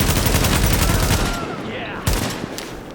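Rapid gunfire from The Division video game opens with a loud burst of repeated shots, then trails off and ends with a single sharp report near the end.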